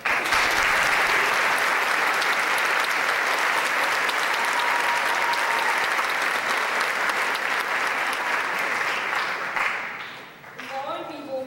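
Sustained, loud applause from a large crowd at a junior high school 8th grade recognition ceremony, steady clapping filling most of the clip before tapering off near the end.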